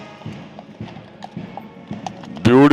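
Horse hooves clip-clop in a steady walking rhythm at a street procession with people marching behind. The strikes are fairly near and moderately loud, and a burst of louder voices breaks in at the end.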